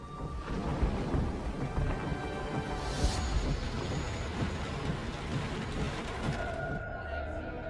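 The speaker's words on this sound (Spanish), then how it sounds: "unas tormentas volvieron a aparecer en el horizonte" A heavy thunderstorm roars with dense, steady rain and deep rolling thunder, loud and continuous throughout.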